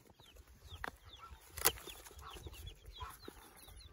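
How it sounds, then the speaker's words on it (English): Baby chicks peep in a series of small, high, thin chirps scattered through steady background noise, with one sharp knock partway through and no one talking. "there's your baby chicks"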